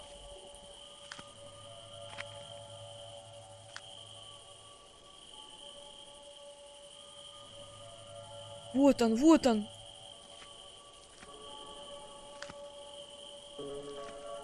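A grasshopper creature in the horror game Granny lets out one short, warbling chirp burst partway through, loud against quiet, humming game ambience, with a person talking nearby.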